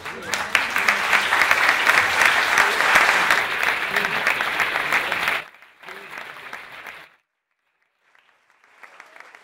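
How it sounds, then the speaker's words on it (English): Lecture audience at an architecture talk bursts into sustained, dense applause for about five seconds, then a shorter second round of clapping, silence, and faint scattered claps returning at the end. "Are you clapping because of what he said, or because you think it's the end?"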